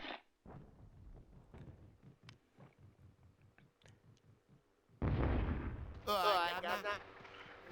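Grenades explode in the video game Hogs of War as a series of short muffled thumps, followed by a louder burst, with a voice talking over the game sounds.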